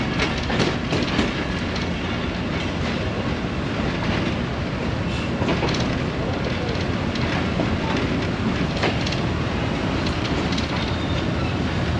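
Passenger train 211 on the Narowal branch line out of Lahore pulling away, a steady broadband rumble with rhythmic wheel clatter and scattered clicks, loud and continuous from up close.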